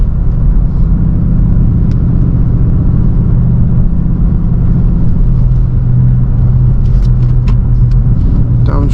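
Inside a Dodge Charger R/T on a winter drive, a heavy, steady engine drone and road rumble fill the cabin as the driver downshifts, with a low hum holding throughout and faint clicks near the end.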